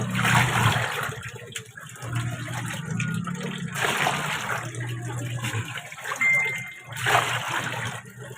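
Water sloshes and splashes in three loud bursts as laundry is rinsed by hand, a third rinse with water carried over from a container in Tondo, Manila, over a low steady hum.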